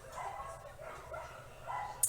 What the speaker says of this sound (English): okay, dogs are barking,